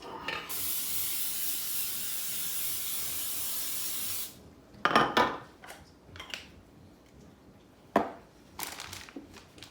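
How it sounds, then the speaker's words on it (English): A can of baking spray hisses in one long steady burst onto metal donut pans, then clattering and scraping of the pans being handled up close. "I'm going to spray my donut pans with baking spray"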